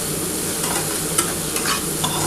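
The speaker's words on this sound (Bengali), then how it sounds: "আগে প্রথমে কিন্তু পেঁয়াজটা কিন্তু ভেজে নিচ্ছি ভালোভাবে।" Chopped onions frying in oil in a pan for a Bengali bhola fish curry, stirred now and then; a steady close sizzle with soft scraping strokes of the spatula and no talk.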